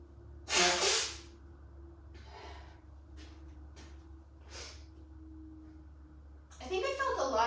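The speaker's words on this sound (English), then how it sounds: "I gotta blow my nose." A person blows their nose during a home workout: a sharp loud honk, then a few shorter softer blows and sniffs, with a faint steady hum underneath and a voice starting to speak at the end.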